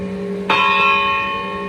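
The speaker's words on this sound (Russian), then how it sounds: "Только что был колокольный звон." A church bell in a small Pyrenees mountain village strikes once loudly, its bright ringing tone sustaining and slowly fading, heard alone outdoors.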